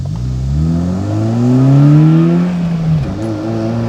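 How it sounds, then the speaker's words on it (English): A Honda GD3 Fit's engine revs up in rising pitch, drops sharply at a quick gear change through a short shifter, then climbs again, loud and close. "maybe you can hear the timing of the gear changes and everything"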